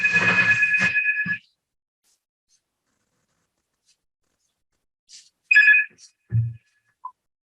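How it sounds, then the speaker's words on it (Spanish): A telephone ringing loudly and steadily for about a second and a half, then cut off, followed by a few brief faint clicks and rustles in an otherwise silent room. "justo no tenía previsto que sonara el teléfono"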